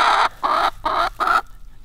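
Backyard hens give four short clucking, chattering calls in an even rhythm, close and fairly quiet, before falling silent.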